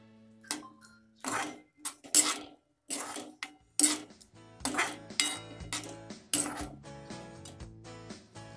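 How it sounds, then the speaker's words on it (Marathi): A metal spoon clinks and scrapes against a pot as cumin seeds and curry leaves are stirred for a homemade chicken biryani, with irregular sharp knocks spaced through the clip. "थोडेसे जिरे, कढीपत्त्याची पाने, हे चांगलं हलवून घ्यायचं."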